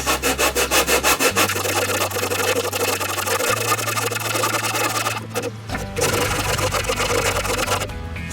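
A Honda CD50 engine part is rubbed on sandpaper laid over glass to flatten it during an oil-leak repair. The scraping strokes are loud, close and rhythmic, and they pause briefly partway through.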